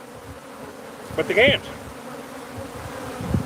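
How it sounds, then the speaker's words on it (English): Remnant honeybees buzz at a hive entrance, a steady close drone that swells briefly in the middle. A person speaks a few words over it. "These are remnant bees balling up."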